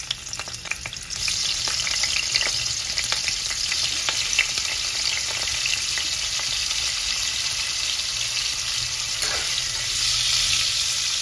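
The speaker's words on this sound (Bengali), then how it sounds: "কপিগুলো ভাজা হয়ে গেছে" Salt-steamed cauliflower florets frying in white oil in a pan, a loud continuous close sizzle with crackling and occasional stirring, no voices.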